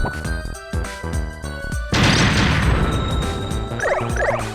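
A Bomberman video game explosion bursts loudly after a stretch of rhythmic game music, followed by a bright, short ringing chime as the blast fades.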